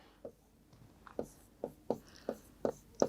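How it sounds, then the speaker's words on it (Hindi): Chalk or marker strokes on a classroom board, seven or eight short, sharp taps and scratches in an uneven rhythm, close and fairly faint, with no talk. "मैं यहाँ पे इंग्लिश में लिख देती हूँ"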